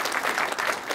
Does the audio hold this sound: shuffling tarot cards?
no